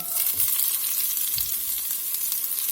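Chopped onion frying in an old, large cast iron pot, giving a steady, dense sizzle that holds at an even level throughout, with faint stirring scrapes underneath.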